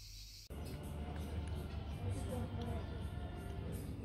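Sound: cicadas chirping

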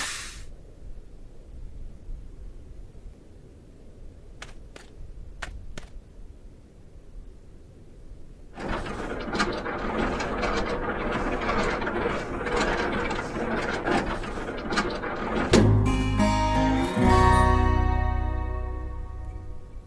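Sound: trailer support leg being raised in Alaskan Truck Simulator video game

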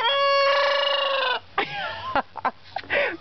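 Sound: young rooster crowing

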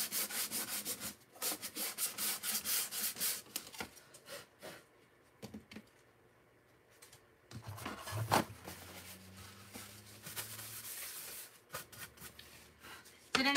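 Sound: sanding wood where wood filler was

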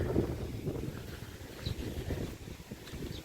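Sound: strong wind

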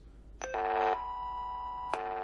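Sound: tracing tones from cable tone probes

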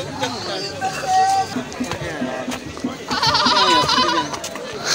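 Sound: goat bleating

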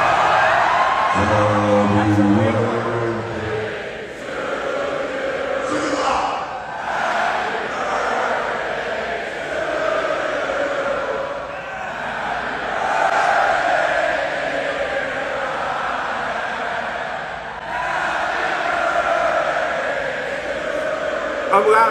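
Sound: concert crowd singing happy birthday

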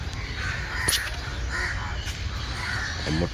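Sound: crow cawing

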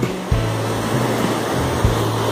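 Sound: water rushing loudly over concrete river pool wall

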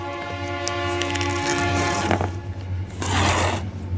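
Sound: train passing with horn

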